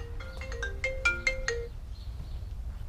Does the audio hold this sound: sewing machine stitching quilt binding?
no